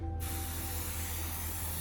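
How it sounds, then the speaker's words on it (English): A single continuous hiss of a spray bottle misting mung bean sprouts in hydroponic trays, close and steady, starting abruptly and running for over a second with no talking. "Give them a little spray."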